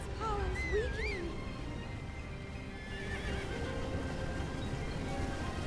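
A horse in the video game Zelda Breath of the Wild gives a loud, wavering whinny near the start, followed by soft hoof clip-clops over a quiet background score.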